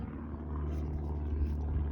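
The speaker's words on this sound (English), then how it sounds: "it's an airplane in the sky." Propeller airplane droning steadily overhead outdoors during hose clamp fitting work, a continuous low rumble holding level throughout with no talk.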